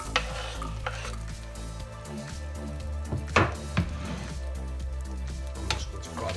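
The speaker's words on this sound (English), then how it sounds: "I'm just going to fry that up. Get the pepperoni jumping about." Pepperoni slices sizzle and crackle in a hot frying pan for a spicy keto omelette, with steady frying hiss, a low hum beneath and a few sharp clinks as the pieces are stirred and moved around.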